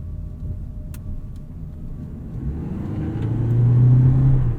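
A 2023 Toyota Prius Limited AWD with a 2-liter hybrid engine, heard from inside while driving: a low, smooth rumble that rises as the engine picks up and hums steadily louder toward the end.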